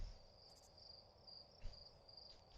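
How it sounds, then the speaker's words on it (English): Crickets chirp over the end credits of the Outer Wilds video game, a steady high trill pulsing faintly against a quiet night ambience, with a few soft low thumps and no talk. "Why is the credit just crickets?"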